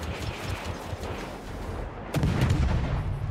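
Naval guns boom in heavy salvos during a World of Warships battle with the destroyer Halland, thudding repeatedly before a louder, closer volley near the end, with no talking.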